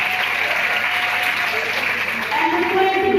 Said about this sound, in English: I think this is a round of applause.